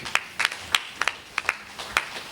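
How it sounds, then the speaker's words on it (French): Scattered, sparse hand claps from an audience at a book presentation ceremony, a few separate claps spread over a couple of seconds rather than a full ovation, fairly quiet with no talk over them. "mérite des applaudissements, cher public"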